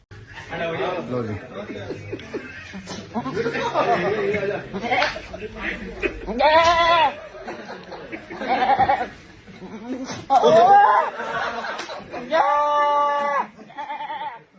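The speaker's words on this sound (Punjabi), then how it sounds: "ਬੱਕਰੇ ਦੀ ਆਵਾਜ਼ ਤੁਹਾਨੂੰ ਕਿਵੇਂ ਲੱਗੀ" A goat's bleats ring out in wavering, harmonic cries several times at a birthday gathering, mixed with people talking and laughing close by.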